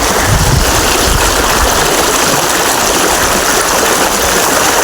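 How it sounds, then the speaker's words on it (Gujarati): Canal water rushes strongly past at a village, a loud, constant broadband roar of flowing water close by with no pauses. "આ પાણી અત્યારે કેનલનું આવે છે ડાયરેક્ટ"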